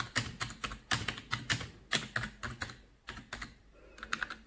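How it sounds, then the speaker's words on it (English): Text typed on a computer keyboard while setting up an OBS live stream, a steady run of crisp, close keystrokes with brief pauses between bursts and no talking. "you can type anything what you want"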